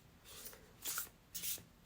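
A deck of tarot cards being shuffled by hand: three quick, crisp riffling bursts, close and fairly quiet, with brief pauses between them and no talking.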